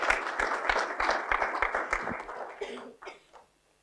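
Applause from a seated audience at a construction and engineering supplier day event: a dense patter of many hands that holds steady, then thins and dies away into silence after about three seconds.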